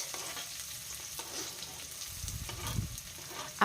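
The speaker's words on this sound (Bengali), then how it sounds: "পেঁয়াজটাকে দেওয়ার পর পেঁয়াজটাকে ভেজে নিতে হবে" Chopped onions frying with spices in a pan, a steady close sizzle running throughout with light stirring scrapes, loud and unbroken with no talking.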